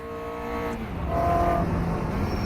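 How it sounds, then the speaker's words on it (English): Caterham open-cockpit race car in a racing sim game, engine note droning steadily with harmonic tones, then rising louder and rougher with crackling exhaust pops and burble on the overrun, close and continuous. "Definitely getting the noise from the exhaust. I can hear the popping back and the barbling"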